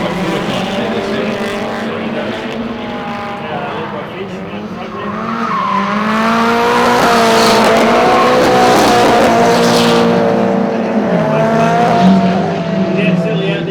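A drift car is thrashed around a track, its engine roaring loudly and rising in intensity partway through, with sustained tyre squeal and skidding over a steady mechanical drone.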